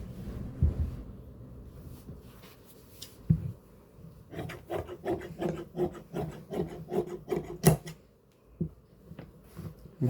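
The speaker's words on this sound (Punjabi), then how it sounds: "ਹੁਣ ਆਪਾਂ ਫੱਟੇ ਕੱਟ ਕੇ ਨਾਲ ਦੀ ਨਾਲ ਹੀ ਆਪਾਂ ਇਹਦੀ ਬੈਲਟ ਕੱਟਾਂਗੇ" Scissors cutting salwar fabric along marked lines, a series of close, rhythmic rasping snips in steady bursts with brief pauses, no talking.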